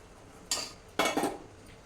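Biryani masala tipped into a cooking pot while making chickpea (senaga) biryani: two quick metallic clatters of spoon against pot, the second longer with a short scraping tail, close and clear with no talk.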